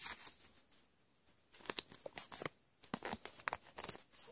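Origami paper being folded in half while making a paper pot, with crisp crinkling and rustling bursts that come close and fairly quiet, separated by short pauses.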